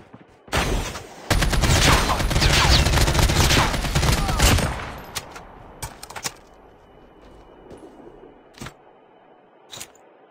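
Assault rifle gunfire in a video game, a long loud sustained burst of rapid shots, then sparse single cracks and clicks spaced out as the firing dies down.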